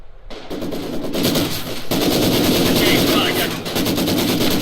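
Machine gun fire in a war video game, loud sustained bursts of rapid gunfire with heavier booms mixed in, continuous and close throughout.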